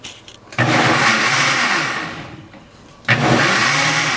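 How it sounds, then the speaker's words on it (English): A kitchen blender whirs loudly through a batch of green chicken pozole sauce with chicken consomme and water, starting abruptly, running for a couple of seconds, briefly dipping as it stops and then roaring back on. "now you're going to blend it"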